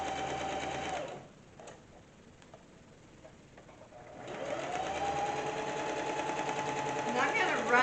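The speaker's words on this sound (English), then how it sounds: "I'm not going to edit or pause it, because I want you to get used to just watching someone sew." Sewing machine stitching a makeup bag, a close rhythmic whirring hum that runs, stops for about three seconds, then resumes steadily, with faint talk underneath.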